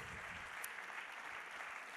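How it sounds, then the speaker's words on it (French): Audience applause at the Béarnais de l'année awards evening, a quiet, distant wash of clapping that holds steady throughout with no speech on top. "Des applaudissements"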